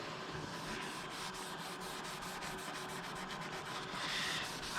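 Steady close-up rubbing of a rag wiping stain on a wooden coffee table, a continuous soft swishing texture with no voices.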